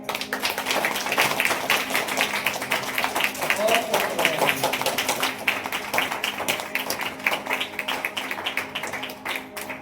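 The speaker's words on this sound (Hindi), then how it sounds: "एक बार जोर से ताली बजाएंगे।" A Sunday church congregation claps loudly in worship, a dense run of sharp hand claps going on for around ten seconds, with a voice talking over the middle.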